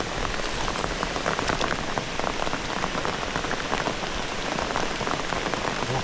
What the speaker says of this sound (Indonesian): Dan hujan.